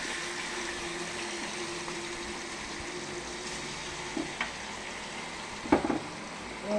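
About 300 grams of chicken sautéing in a pan for South Indian chicken curry, a steady low sizzle with a few soft stirring clinks near the end.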